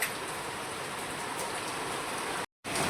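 Steady rain driven by wind in the early morning, a continuous dense hiss of drops with no voices, briefly cut to silence near the end before resuming.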